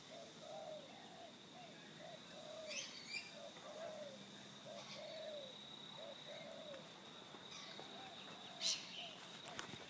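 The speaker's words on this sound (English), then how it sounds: "Pigeons came to help." Pigeons coo softly in a garden bushes setting, a series of repeated low hooting coos in steady rhythm, fairly faint and distant, with a few brief sharp background clicks and bird chirps.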